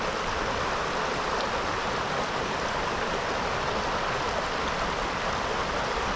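A steady, full rush of river water fills the scene without pause, loud and close, like a fast current.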